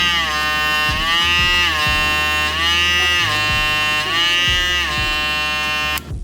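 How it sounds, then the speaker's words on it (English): A StyleCraft Instinct hair trimmer with a vector motor runs steadily with pressure on the blade, giving a loud, close, buzzing hum whose pitch dips and recovers several times before cutting off at the end. "I really want you to use your ears and listen to how this vector motor kicks into action."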